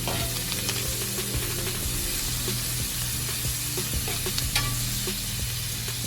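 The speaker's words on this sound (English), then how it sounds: "then you just want to stir it up a little" Chopped vegetables and thyme sizzle in a pan for smothered pork chops, a loud continuous close-up fry with repeated scraping and clacking of a utensil stirring, and no talking.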